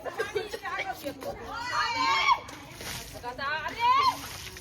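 Water thrown at people during Rangpanchami festivities at home, with sloshing splashes breaking through loud, excited chatter and shouting voices.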